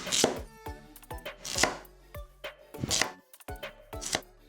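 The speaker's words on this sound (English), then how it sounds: "I'll do a simple roll cut for both these carrots." A knife roll-cuts carrots and daikon radish on a cutting board, giving about seven crisp, close chops at an uneven pace with short pauses between them.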